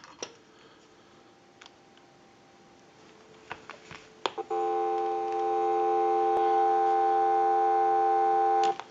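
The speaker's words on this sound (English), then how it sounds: "Now what we can do is go ahead and give you some dial tone." A Stromberg Carlson rotary candlestick telephone gives a steady, loud dial tone after a few scattered clicks and taps. The tone holds evenly for about four seconds before cutting off.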